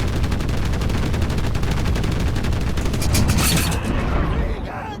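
Rapid bursts of 30mm aircraft cannon fire in Enlisted, a loud, continuous rattling stream of shots during a low strafing run that fades out at the end.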